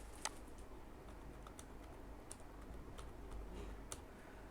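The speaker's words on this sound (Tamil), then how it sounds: "உங்களுடைய இமெயில் ஐடி அல்லது மொபைல் நம்பரை இதில் டைப் பண்ணுங்கள்." Light typing on a computer keyboard while entering an email ID or mobile number, heard as a few sparse, faint keystroke clicks spread over a quiet background hum.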